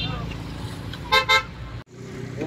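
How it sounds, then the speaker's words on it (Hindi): Car horns honk in a road traffic jam stretching several kilometres on the way to Mussoorie, where a JCB is repairing the road: two short close toots over a steady engine and traffic rumble, followed by a brief cutoff. "और ट्रैफिक देखो कितना बढ़ चुका है, नीचे तक लगा हुआ है कई किलोमीटर तक"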